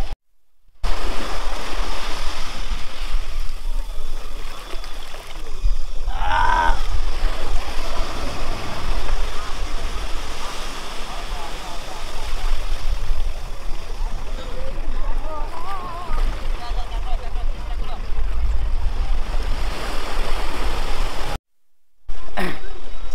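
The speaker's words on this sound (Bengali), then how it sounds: "দেখো একদম জল এখন জোয়ার, জল অনেক সামনে" Sea waves wash continuously onto Gangasagar beach at high tide, a loud steady surf roar with wind buffeting the microphone.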